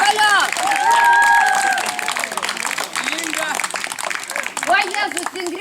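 At a crafts-week gathering in a Lithuanian village, a crowd claps and cheers loudly and continuously, with shouts and whoops rising over the sustained applause.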